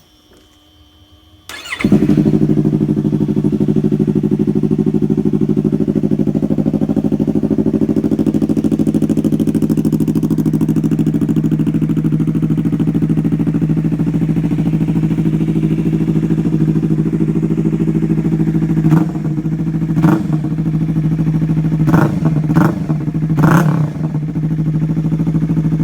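Yamaha R3 motorcycle fitted with an undertail exhaust starts up, then idles with a loud, steady drone close by, followed by several sharp throttle blips near the end.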